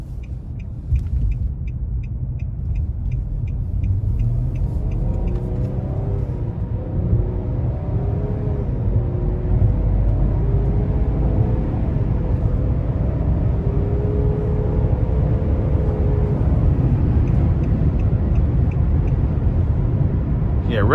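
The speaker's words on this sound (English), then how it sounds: "We're just gonna give it a little throttle getting on the interstate here." A 2022 Nissan Murano Platinum accelerates up an interstate on-ramp, its engine rising in a steady droning pitch under continuous road and tire rumble heard from inside the cabin.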